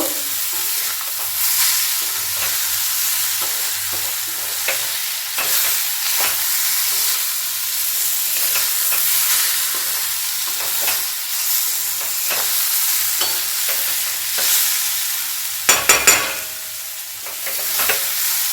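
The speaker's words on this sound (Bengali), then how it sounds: "আবার সুন্দর করে ভেজে নেব।" Cauliflower paratha filling fries in a pan with a steady hiss and sizzle, broken by repeated scraping stirs, with a brief cluster of louder clanks near the end.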